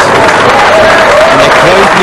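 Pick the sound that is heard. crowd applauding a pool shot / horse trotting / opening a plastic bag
crowd applauding a pool shot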